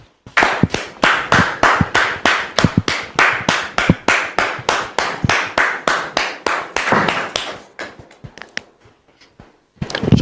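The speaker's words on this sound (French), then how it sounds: "Merci très cher public de recevoir le pasteur Jean de Dieu que nous recevons sous vos applaudissements." Studio audience clapping to welcome a pastor onto a French-language TV talk show: a steady run of sharp, evenly spaced claps, loud and close, that thins into a few scattered claps and stops near the end.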